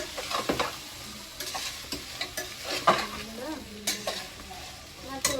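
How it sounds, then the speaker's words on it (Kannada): Beans frying in a pan for a rustic-style pulao, stirred with repeated scraping and clattering spoon strokes over a steady sizzle, close and fairly loud, with brief faint voice traces in the background. "ಬೀನ್ಸು ಎಲ್ಲ ಹಾಕೊಂಡು ಚೆಂದಾಗಿ ಫ್ರೈ ಮಾಡೋಣ."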